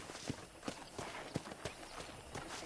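Hooves of a horse walking in the video game Red Dead Redemption, a steady clip-clop of evenly spaced strikes, moderately close, with no speech over them.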